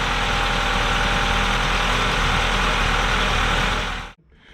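A Honda engine idles steadily with a fuel injector grommet being sprayed, giving a loud, constant droning rumble with vibration that runs unbroken for about four seconds before cutting off abruptly.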